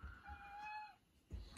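A house cat meows for attention, one drawn-out close meow with a falling tone, then the start of a second call, over a low indoor background.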